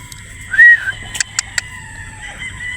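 Gamefowl rooster of a Boston over Yellow Legged Hatch bloodline at a game farm in Batangas, giving a short crow followed by a few sharp clucks, close and clear against quiet outdoor background.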